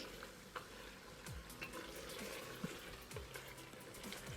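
Lamb chops sizzling and frying in a pan with a steady crackle, plus occasional scraping and stirring clinks, no talking.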